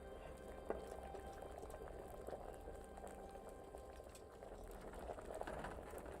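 A potion bubbling as it boils during alchemy in Kingdom Come: Deliverance, a faint continuous burbling simmer with small pops, steady throughout with no talk.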